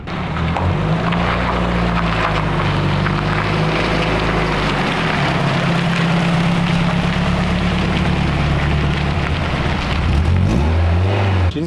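A rebuilt Renault Clio 172 on the move, its engine droning loud and close in a steady, continuous hum that rises slightly near the end, with no talking.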